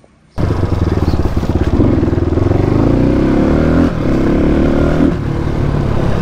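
An RR motorcycle engine on a test ride starts up suddenly and runs close and loud, with a rapid pulsing beat and a couple of throttle swells and dips throughout.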